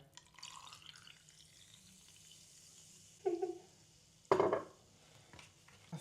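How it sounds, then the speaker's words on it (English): Sparkling water pours into a glass to top off a cocktail in two short bursts, with faint fizzing and clinking in a quiet room. "To top it off, sparkling water."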